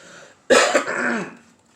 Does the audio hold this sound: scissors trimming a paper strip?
no